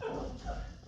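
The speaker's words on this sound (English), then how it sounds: "Tank is barking because somebody's at the door." A pet dog at home barks and whimpers briefly at someone at the door, a short, muffled sound at moderate distance.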